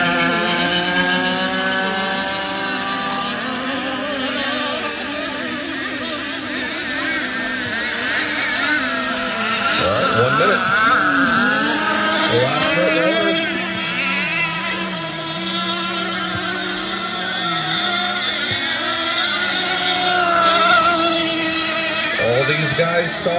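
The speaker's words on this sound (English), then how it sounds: "boats are going in the water" Scale hydroplane model boats race in a heat on open water, their high-pitched engines whining and buzzing steadily and shifting pitch as they pass, with an announcer talking over the constant engine drone.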